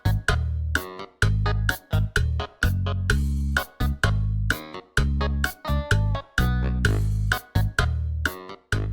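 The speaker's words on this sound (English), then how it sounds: "A 4 out of 4 song sounds like this" Short example song in 4/4 time made of punchy rhythmic hits and chord stabs, repeating in regular bars with brief gaps between phrases, loud and clean with no talking.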